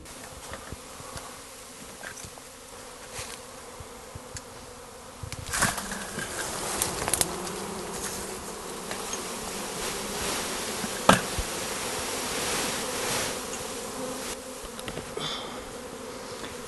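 A dense, continuous buzzing of a honey bee swarm, close and steady, swelling louder partway through with occasional knocks and bumps.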